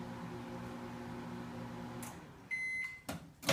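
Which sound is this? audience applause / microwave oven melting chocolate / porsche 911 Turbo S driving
microwave oven melting chocolate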